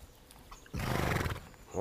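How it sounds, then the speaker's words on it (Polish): A horse neighs once, a loud drawn-out whinny rising suddenly out of quiet outdoor background near a stable. "Zobaczcie, jakie tu są fajne koniki."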